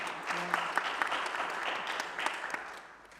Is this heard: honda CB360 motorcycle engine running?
no